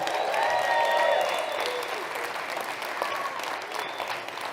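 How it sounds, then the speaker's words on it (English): Audience applause for the North Tahoe Chamber as sponsor at a climbing presentation on Patagonia, a steady dense clapping from a full room that swells early then holds evenly throughout, with no speech over it. "Give them a big round of applause for believing in adventure storytelling"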